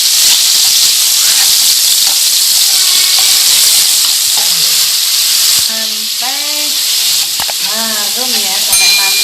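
Spices for yellow rice sauté in a pan with a steady, close sizzle and hiss throughout, while a bird or animal chirps faintly in the background.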